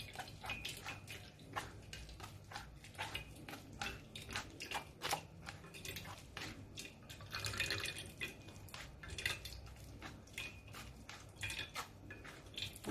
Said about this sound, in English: I will just try and use my spoon to make sure I press it down so that I will have enough